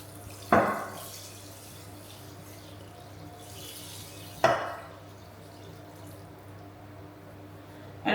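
Water is poured into a tray bake with a steady, soft trickling splash and a few sharper clinks of the container, close up under a low background hum.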